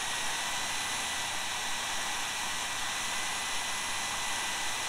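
A model jet turbine engine runs steadily at high RPM, a loud, constant airy roar with a high whine that stays level throughout, without any talking.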